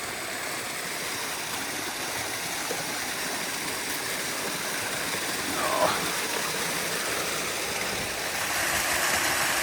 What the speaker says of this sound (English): None of these waterfalls are normally here. And now every 20 metres is waterfall.